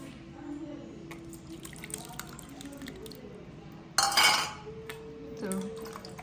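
Boiled tamarind is squeezed by hand and strained, giving quiet wet squelches and drips with light clinks of a vessel and strainer, plus one brief louder splash.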